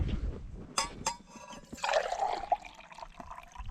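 Tea is poured outdoors on ice during a first-ice trout fishing outing, heard as a short liquid trickle after a couple of clinks, close and fairly quiet.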